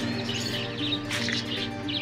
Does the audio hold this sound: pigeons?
yes